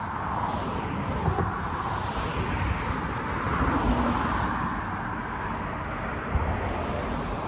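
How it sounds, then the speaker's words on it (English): Cars pass along a road beside a walking path, a broad, continuous roadway rush that swells and fades as vehicles go by, moderately loud against footsteps and open-air wind. "I have the most soothing sound of all these cars."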